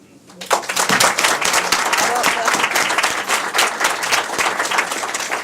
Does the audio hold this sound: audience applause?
yes